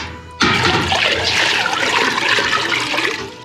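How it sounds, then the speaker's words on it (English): Water gushes and splashes loudly into a pot being filled for heating canning jars of homemade Dijon mustard, starting abruptly and pouring steadily before tapering slightly. "And I'm gonna need to add some more water in there."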